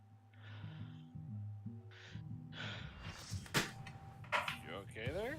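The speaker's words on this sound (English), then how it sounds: "Heavy breathing ensues." A person breathes heavily after running back to a chair, with audible gasps and sighs. Voices talk nearby over a low hum.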